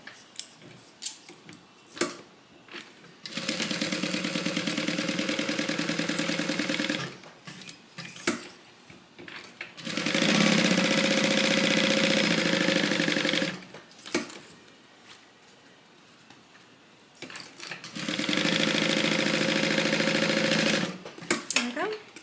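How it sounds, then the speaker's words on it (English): A sewing machine stitches two bag pocket pieces together for a divider bag in three sustained whirring runs of several seconds each, separated by quiet pauses with small handling clicks. "We are sewing the two pocket pieces together."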